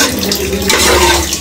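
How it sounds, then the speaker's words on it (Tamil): Rice is washed in water in a pot, giving a short, loud, close swish and slosh of churning water that lasts about a second and a half. "அரிசி கழுவிட்டு இருக்காங்க."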